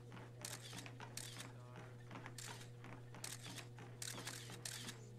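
Camera shutter clicks from photographers in The Sims 4, a run of repeated crisp clicks over a steady hum, with chatter and game sounds underneath.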